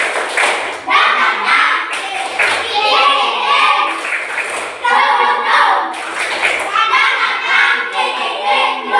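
A class of schoolchildren in a gym lesson on floor gymnastics claps hands in energetic, rhythmic bursts with short pauses between rounds, children's voices mixed in throughout.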